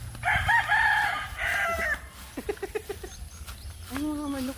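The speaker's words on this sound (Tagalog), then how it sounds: "Ay, mga manok po na. Marami po tayo mga manok. Mga panabong po." Several gamecocks crow and cluck at close range in a rural yard, a few long strained crows broken by short choppy clucks, with faint voices in the background.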